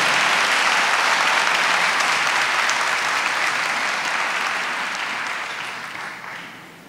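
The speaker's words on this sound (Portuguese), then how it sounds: "Pode aplaudir essa palavra." A church congregation claps together in sustained, dense applause that stays loud and even, then slowly thins and fades toward the end.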